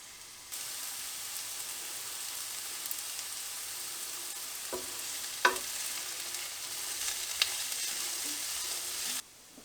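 Onions sweating in a pan for a minced beef and potato curry give a steady, even sizzle throughout, with a couple of faint clicks and light stirring sounds in the middle; no one speaks.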